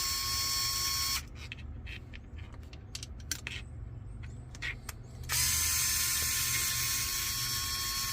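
A small 6-volt electric hand screwdriver whirs steadily while removing screws during an install on a Redcat Ascent 18 crawler, with a stretch of quieter clicks and taps in the middle before the motor whine resumes, close and fairly loud.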